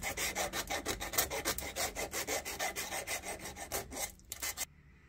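A hand file rasps rhythmically across the flared end of a brake pipe on a Smart ForTwo 450 to clear burrs, with about twenty quick, even strokes close up before stopping.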